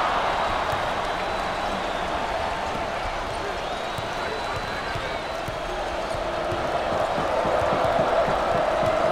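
Basketball arena crowd at an ACC tournament semifinal between Clemson and Duke, a dense, sustained roar of cheering and applause that swells toward the end, with the faint squeak of the court beneath.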